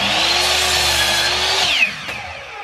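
A miter saw cuts through a wooden board for a DIY fireplace mantel, a loud steady motor whine under load for over a second before the blade spins down, close and alone.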